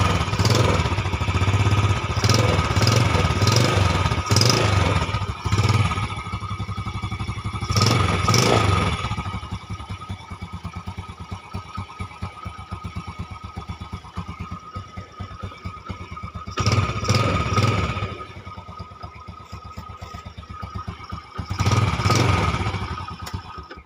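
A motorcycle engine idles smoothly nearby, a steady mid-pitched putter broken by a few short, louder bursts of revving or clatter, with no talking.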